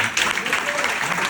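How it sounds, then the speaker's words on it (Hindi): Loud, dense applause from a training-program audience in a hall in Agra, a brief continuous burst of clapping filling the moment. "तो एक बार जोरदार तालियां।"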